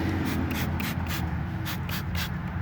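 Brake cleaner sprayed onto a car wheel gives repeated short hissing bursts in a steady rhythm, over a constant low machine hum.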